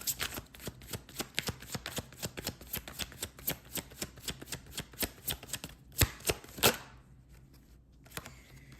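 Tarot cards shuffled in a steady run of crisp riffling flicks, close and clear, pausing briefly before a few final snaps and a last soft shuffle.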